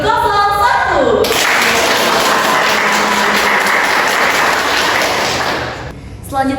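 Applause for election candidate pair 01 at a simulated debate, a sustained burst of clapping starting after a voice and fading out near the end.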